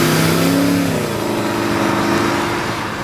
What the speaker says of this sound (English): Listen to that rev matching.